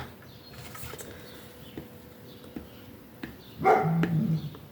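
A dog barks through an open window, a short burst of a few barks near the end following quiet room noise with faint taps.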